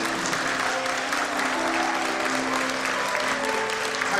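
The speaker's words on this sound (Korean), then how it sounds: "모두로 박수 부탁드립니다." A church congregation applauds after deacons are ordained at a thanksgiving ordination service, with continuous dense clapping holding steady throughout, plus a faint sustained musical tone beneath it.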